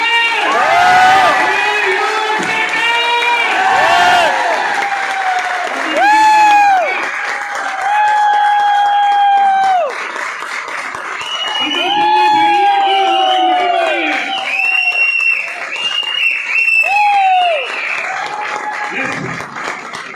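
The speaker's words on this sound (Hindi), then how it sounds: "नीचे वालों की ताली सुन रही है मुझे" A large, excited crowd at a Modicare network-marketing rally in Hisar claps, cheers and whoops loudly, with drawn-out shouts rising and falling in waves over sustained applause.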